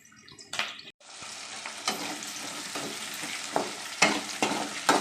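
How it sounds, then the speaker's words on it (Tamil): Sliced onions sautéing in a pan for a Tamil peanut kara kuzhambu curry, with a steady crackling sizzle broken by sharp spatula scrapes and clicks of stirring, close and fairly loud, no talking. "இப்போ வெங்காயம் வதங்கட்டும் வாங்க"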